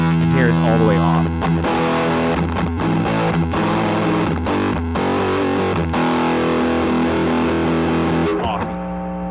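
Electro-Harmonix Big Muff fuzz pedal with its tone knob turned fully off, driving a loud, dense, distorted guitar that strums sustained chords continuously for about nine seconds before stopping, with no talking.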